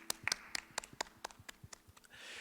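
A small church youth congregation claps during a Korean online worship service, a faint, sparse run of about a dozen distinct hand claps at an uneven rhythm, thinning out toward the end.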